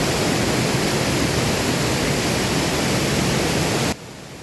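A hidden waterfall at Savane roars as a loud, unbroken rush of falling water close by, then drops off abruptly near the very end.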